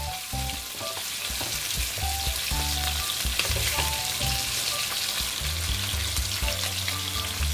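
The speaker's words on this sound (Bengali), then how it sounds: "মাছ কিন্তু খুব বেশি কড়া করে ভাজবো না" Pomfret fish fry in hot oil in a pan, giving a steady, dense sizzle and crackle throughout, close and even, with background music playing underneath.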